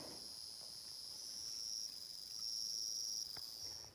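Crickets chirp steadily inside an old gold mine tunnel, a continuous high, even trill that holds throughout with a faint hiss underneath and no voices.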